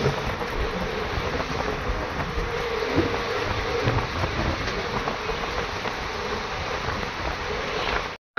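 Train running on the line toward Bardhaman station in West Bengal, heard as a steady broadband rumble and clatter from inside or beside the carriages, continuous and fairly loud throughout with no voices.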